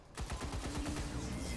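A soldier's weapon fires in the turn-based strategy game XCOM 2 (Long War 2), a rapid burst of close, loud gunshots that rattles for over a second.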